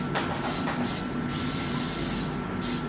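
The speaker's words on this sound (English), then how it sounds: "So we're going to go ahead and spray our pan." Several short bursts of cooking spray hiss onto a baking pan in quick succession, close and steady, with brief pauses between pumps.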